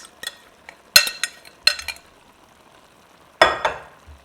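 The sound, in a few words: seasoned shrimp frying and stirred in a hot pan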